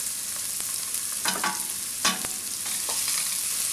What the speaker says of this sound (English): Once the oil is hot, we're going to put the onions inside.